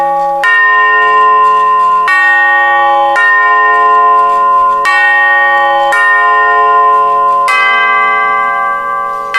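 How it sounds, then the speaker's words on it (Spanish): Church bells toll loudly and close, with about six ringing strikes at a slow, regular pace, each one overlapping the long decay of the one before. "Campanas doblando"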